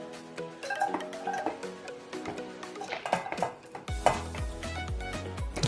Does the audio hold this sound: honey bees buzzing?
no